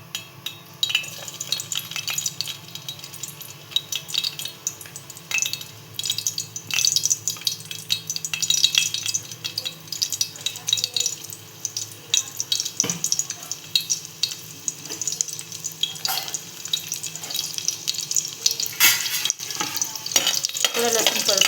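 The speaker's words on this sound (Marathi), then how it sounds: "थोडं लसूण परतून घेऊया. तुपाचा ना खूप आवाज येतो" Crushed garlic cloves sizzle in hot ghee and oil in a pan while being stirred, a steady close crackling fry with frequent scraping clicks throughout and no voices.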